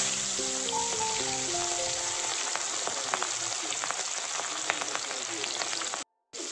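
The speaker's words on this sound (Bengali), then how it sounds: "তেল গরম হয়ে গেলে আমি এবার এর মধ্যে মাছের মাথা দিয়ে দেবো" Fish heads frying in hot oil, an even, close hiss of sizzling with scattered small pops and spits. A brief faint melodic tone sounds early on, and the sound cuts out for a moment near the end.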